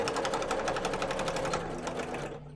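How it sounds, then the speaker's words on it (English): A sewing machine stitching through many thick layers of fabric on a cosplay bow, a rapid, even mechanical chatter close by that slows and strains slightly before stopping. "it is through a lot of layers, so my machine is just going to be a bit sad"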